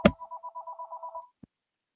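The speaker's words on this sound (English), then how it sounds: "Let me get rid of that phone." A telephone gives a single short warbling ring, a rapid pulsing tone lasting just over a second, framed by a click at the start and another as it cuts off.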